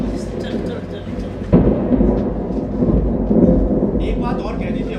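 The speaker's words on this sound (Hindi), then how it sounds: "ये तो बारिश पड़ने लगी है भाई" Staged rain and thunder effect in a Hindi theatre play: a sudden thunder crack over a continuous wash of rain and rumble, lasting several seconds.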